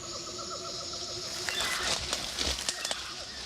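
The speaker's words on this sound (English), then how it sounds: "All I can hear is the primates and the birds." Tropical bush ambience with steady, moderately distant bird calls, including soft cooing tones, and a few scattered rustles and brief calls that grow slightly busier toward the end; no talking.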